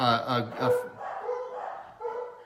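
Several excited dogs bark and yip in a burst at close range as a homeowner arrives back at the house, then quieter whimpering and vocal sounds continue with a person speaking over them.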